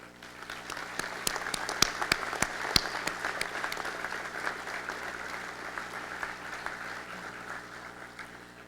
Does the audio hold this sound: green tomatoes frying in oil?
no